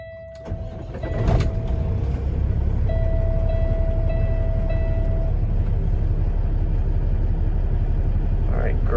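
A 2016 Kenworth W900L glider daycab with a 6NZ single-turbo Cat engine pulls away, its loud diesel rumble and rising drone steady throughout, with a clunk near the start and faint tonal whines above.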